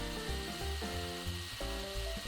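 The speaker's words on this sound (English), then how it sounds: "I chose the faster route and melted it instead with a soldering tool." Hot soldering tool melting a hole through a plastic water bottle lid, giving a steady hissing sizzle with a low hum underneath and a few faint shifts in tone as the tip works in.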